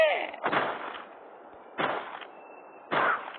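Three loud, separate gunshots ring out in the zombie-defense game Flat Zombie: Defense & Cleanup, each a sharp burst with a short tail, spaced about a second and a half apart.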